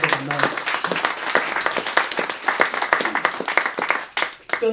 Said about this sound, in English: Round of applause, please, for Jacob and Moe.